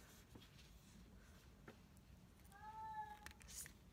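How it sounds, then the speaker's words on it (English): A pet cat cries for attention indoors with a faint, drawn-out meow rising out of a quiet room, followed by a short second call. "That is my cat crying for attention."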